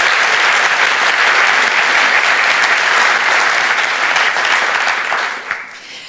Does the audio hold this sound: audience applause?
yes